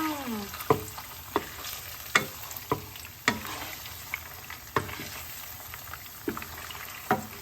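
Isan sausage fries in oil in a Korean pan with a steady close sizzle, punctuated by a dozen irregular clacks and scrapes of a utensil stirring and turning the pieces.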